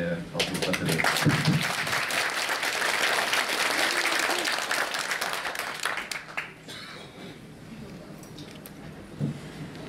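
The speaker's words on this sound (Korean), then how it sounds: "예, 박수 부탁드립니다." An audience claps for a parliamentary candidate at an inauguration ceremony held at a Buddhist temple hall, sustained applause that fades out over several seconds, with voices audible under it.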